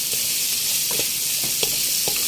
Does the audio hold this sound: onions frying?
yes